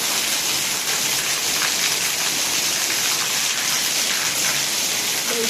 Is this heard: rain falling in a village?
yes